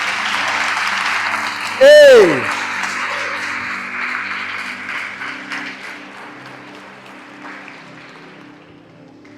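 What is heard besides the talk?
audience applause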